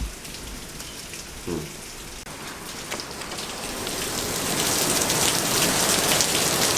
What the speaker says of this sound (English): Look at that, man, it's raining outside.